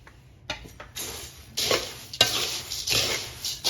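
Scraping and stirring of poha chevdo snack mixture with spices in a pan, with repeated rustling sweeps and clinks of a spoon against metal, close and fairly soft.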